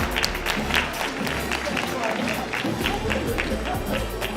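Steady broadband clapping from an audience at an evening awards event, filling the whole stretch with dense, even applause and crowd noise, moderately loud and continuous.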